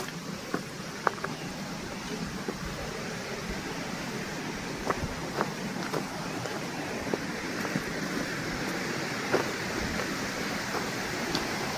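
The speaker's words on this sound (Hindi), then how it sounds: "पानी की आवाज़, बाजू में नदी" A river rushes over rocks steadily in the background near Tambdi Surla waterfall, a continuous broad wash of water with occasional small splashes, fairly faint and without talking.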